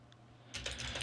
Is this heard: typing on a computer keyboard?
yes